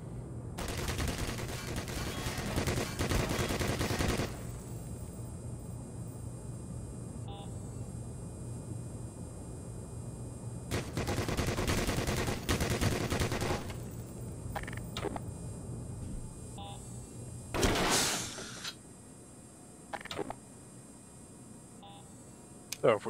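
An automated turret fires in Black Mesa, with long loud bursts of rapid gunfire separated by quieter stretches, then shorter sharp shots near the end; no talk.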